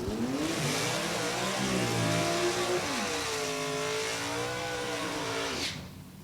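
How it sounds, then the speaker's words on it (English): A 6-cylinder dragster in a Comp Eliminator race at National Trail Raceway, its engine roaring loudly and steadily as it accelerates down the drag strip, pitch climbing through the pass before cutting off abruptly near the end. "Little 6-cylinder D dragster cruises right on through 735 at 162"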